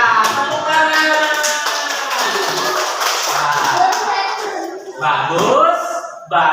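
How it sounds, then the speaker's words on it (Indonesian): Classroom audience clapping for classmates who just came to the front, a short burst of hand claps mixed with loud voices and chatter, close and busy. "iya, tepuk tangan."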